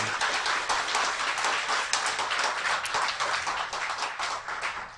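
An audience claps steadily in dense, continuous applause, loud and close, with no speech over it for the whole stretch.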